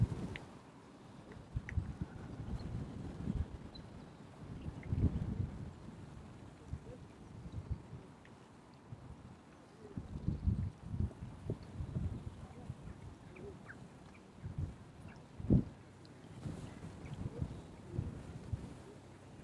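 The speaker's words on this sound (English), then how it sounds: "Ooh, wind." Gusting wind outdoors at a winter carp fishing spot, buffeting the microphone in low, rumbling bursts that rise and fall throughout, fairly faint overall with a sharper gust near the end.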